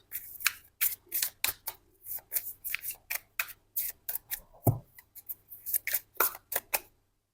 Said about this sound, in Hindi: चलिए पहले मैं थोड़े से कार्ड्स निकाल लेती हूँ